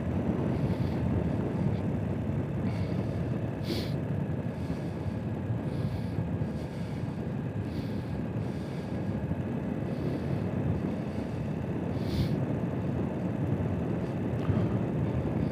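A car engine runs at low speed while the car drives slowly, with an engine warning light on and a barometric sensor fault, a steady low rumble of engine and road noise with faint ticking.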